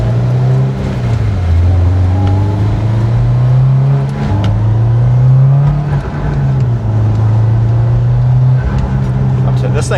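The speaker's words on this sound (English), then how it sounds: "Hit rev limit there." A 500 HP Subaru WRX STI on its base map revs loudly and close through the gears, the engine note climbing, dropping and climbing again, with talk underneath.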